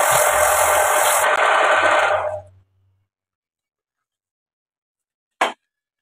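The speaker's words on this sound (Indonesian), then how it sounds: "untuk lebih mudahnya kita menggunakan amplas kasar ya teman-teman" Coarse sandpaper rasps steadily against wood turning on a homemade lathe, loud and close for about two seconds, then the motor winds down to silence before a brief tap near the end.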